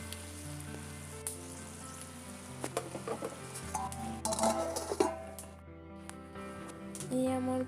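Cabbage and potatoes frying in a home kitchen pan, a quiet continuous sizzle with occasional clinks of stirring, under faint tonal background sound.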